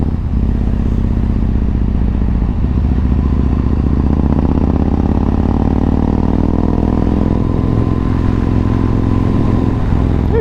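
A motorcycle engine drones steadily while the bike is ridden, a loud, close, continuous note with rising pitch and faint clatter, and no talk over it.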